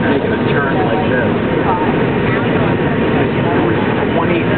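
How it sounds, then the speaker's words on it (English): Inside an airplane turning while coming in to land at night, a steady loud engine roar and cabin rumble fill the whole stretch without letup. "The plane's making a turn like this."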